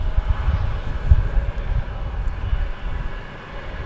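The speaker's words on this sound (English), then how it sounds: "This is Aeromexico. It's an Airbus, it's an Embraer E190 coming in from Mexico City." An Aeromexico Embraer E190 jet arrives at DFW Airport, a low, fluctuating engine rumble heard from some distance, steady with slight swells and no speech.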